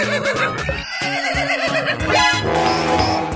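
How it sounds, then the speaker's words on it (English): A cartoon horse whinnies loudly and close, a shaky rising-and-falling neigh filling the whole stretch with no talking. "Horse."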